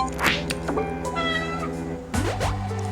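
A cat in the video game A Space for the Unbound meows several times in short, clear, close calls, with game sound effects between them and no talking.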